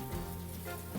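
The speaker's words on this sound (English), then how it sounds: "they should sizzle when they go into your pan" Floured veal cutlets sizzle in hot olive oil in a pan, a steady close crackle and hiss that runs unbroken, with a faint low hum of the kitchen underneath.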